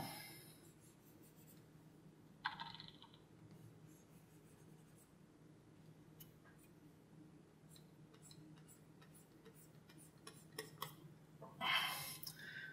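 A stylus sketches with a darker pencil brush on the screen of an HP ZBook x2 G4 tablet, giving faint scratchy strokes over a low hum, with a couple of louder brief scrapes near the start and end.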